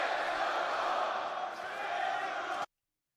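A loud arena crowd at a UFC fight roars in a sustained, dense wash of cheering and shouting, close and steady, before cutting off abruptly.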